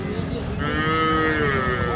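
A white desi cow moos at the Chougachha cattle market in Jashore, one long, loud, drawn-out call close by, over a low murmur of the market.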